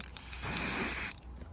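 A can of spray paint hisses a steady undercoat onto a Warhammer miniature in one continuous burst of about a second, close and fairly loud, then cuts off.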